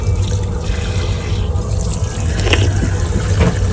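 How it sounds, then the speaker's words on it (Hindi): Water runs steadily from a washroom tap with a constant close hiss and light splashing for a few seconds, and no voices. "यहाँ से पानी आ जाएगा भाई।"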